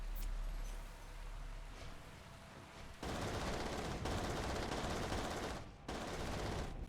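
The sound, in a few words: heavy machine gun firing in a video game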